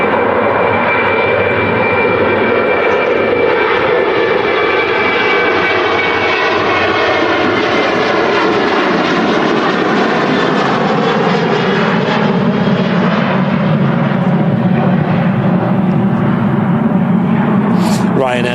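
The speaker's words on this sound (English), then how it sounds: "Ryanair 737-800 departing there." A Ryanair Boeing 737-800 departs Manchester Airport with a loud, continuous jet roar that builds and sweeps slightly in pitch as it climbs away, heard outdoors throughout.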